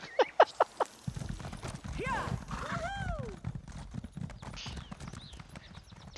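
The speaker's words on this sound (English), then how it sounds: "I might want to take a horse." In the Elder Scrolls Online video game, a few sharp horse hoof clip-clops ring out first. A run of rapid hooves follows with swooping tonal game effects above it, and faint sounds carry on behind.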